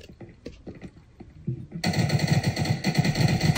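Rapid gunfire in Rainbow Six Siege bursts in after scattered quieter shots, a fast, loud rattling stream of rounds that runs to the end.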